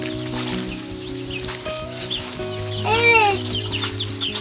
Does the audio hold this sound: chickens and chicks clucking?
yes